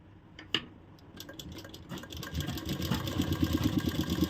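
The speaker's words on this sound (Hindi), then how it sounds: "अब हम इस पर सिलाई चलाएंगे" A sewing machine stitches cloth up close, starting with a few hesitant thumps and then running in a fast, even, rhythmic chatter that grows steadily louder.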